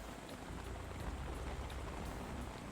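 Steady rain falling in a stealth action video game, a constant soft hiss with low rumble that holds evenly throughout, heard alone without speech.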